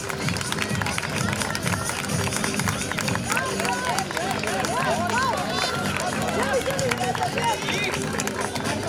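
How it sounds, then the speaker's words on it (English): Crowd at a school sports day race, with steady clapping and cheering mixed into loud, dense babble and an announcer-like voice throughout. "keep clapping everyone"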